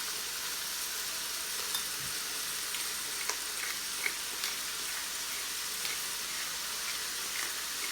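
Carrots, celery and onions frying in olive oil with salt in a pan, a steady hissing sizzle close by with a few faint clicks and stirs, no voices.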